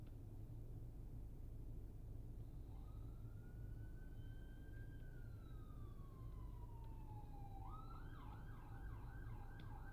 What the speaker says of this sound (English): Guys hear the ambulance?